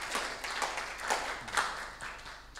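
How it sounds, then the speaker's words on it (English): An audience applauds the discussants at a youth leaders' conference session, a steady patter of many hands clapping at moderate loudness throughout. "maybe we can clap for our discussants"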